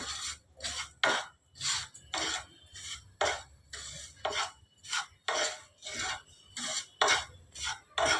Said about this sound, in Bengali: এই ঘিটা দিয়ে আমি এখন নাড়তে থাকবো।